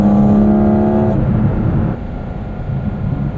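A 2023 Porsche 718 Cayman GT4 RS engine revving loud and close, a strong steady roar with a harmonic whine that drops to a lower, rougher drone partway through.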